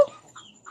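Chickens at a home, giving a few soft, short clucks with brief pauses between them, fairly close and quiet with no voices.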